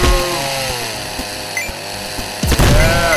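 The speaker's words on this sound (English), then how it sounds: "Chainsaw" A video game chainsaw weapon revs loudly with a buzzing, harmonic engine whine that sweeps up and down, then surges with a sharp burst near the end.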